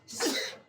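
A single close, sharp human sneeze, loud and brief, bursting out alone with no talk around it.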